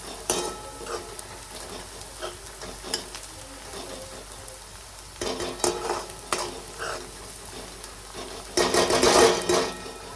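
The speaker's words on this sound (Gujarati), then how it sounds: "આપણે આને સારી રીતે સાતળવા દઈશું જ્યાં સુધી રાતો કલર ના થઈ જાય ત્યાં સુધી" Chole masala base sautéing in a pan, a soft continuous sizzle with intermittent scraping and stirring strokes of a utensil, growing busier and louder toward the end.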